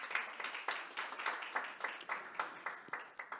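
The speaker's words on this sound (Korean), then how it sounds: "류광수 이사장님께 다시 한번 큰 박수 부탁드립니다" Audience at an academic policy conference claps steadily for a few seconds, a dense, moderately distant round of applause with no talk over it.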